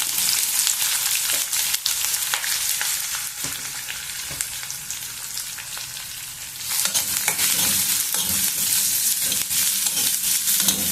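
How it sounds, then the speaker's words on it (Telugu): Onions frying in a pan for egg masala curry give a loud, constant sizzle with occasional scraping stirs, and the hiss swells again near the end; no voices. "కొద్దిగా ఉల్లిగడ్డల్ని బాగా వేగనిద్దాము"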